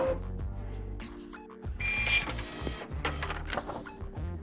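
A Canon Pixma MG3550 printer running a nozzle check page, with close mechanical whirring, clicking carriage movements and brief motor tones that keep going steadily.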